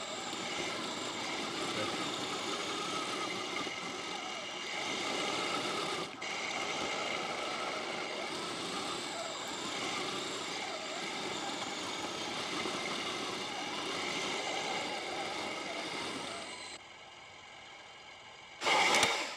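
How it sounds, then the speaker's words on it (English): A steady mechanical engine hum with a buzzing whine from a 1/16 scale Agora Models Leopard 2A6 model tank runs continuously, briefly dipping, then quieter near the end before a short louder rev. "the engine noise is not super loud. Oh, it gets louder when you rev it up."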